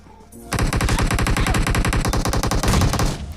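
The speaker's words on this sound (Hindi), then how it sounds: "इतने में राइट से भाई साहब फायरिंग आती है मेरे ऊपर" Automatic gunfire rattles in a battle royale video game, a loud close burst of rapid evenly spaced shots lasting about three seconds after a quiet start.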